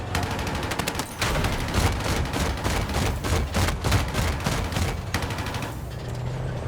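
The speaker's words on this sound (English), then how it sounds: "I like being the gunner. I like the machine gun." Sustained automatic machine gun fire from a mounted gunner position in the video game Battlefield 6, loud rapid bursts with brief pauses amid battlefield din, no talking.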